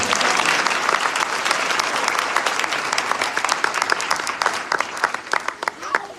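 Audience at a revival meeting in Sialkot breaking into loud, sustained applause, dense clapping from a large crowd that thins toward the end into scattered individual claps.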